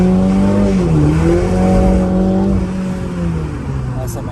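A race car in a racing video game revs hard with a wavering engine note and squealing, skidding tyres, loud and close for several seconds, while someone speaks French over it.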